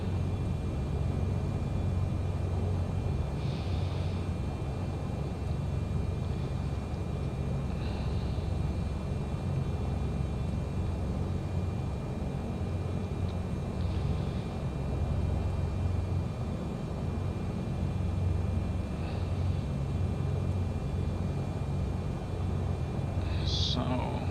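An airliner taxis off the runway at Nagasaki in a flight simulator, a steady engine drone and rumble that continues throughout, with faint clicks and beeps over it.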